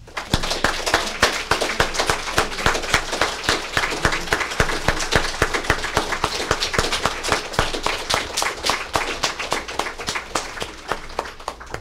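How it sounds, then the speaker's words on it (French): Sustained warm applause from a gathered crowd at a funeral ceremony, dense steady clapping lasting the whole stretch and tapering slightly toward the end. "je pense qu'on peut applaudir chaleureusement Yves"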